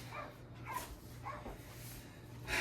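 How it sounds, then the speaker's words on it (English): A dog barks and whimpers faintly somewhere off in a home kitchen, short yips spread across a quiet background. "I apologize if you can hear my dog barking."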